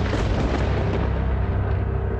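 A thunder sound effect in a children's story retelling, a dense, continuous low rumble with steady loud broadband roar and no pauses, heard alone without speech.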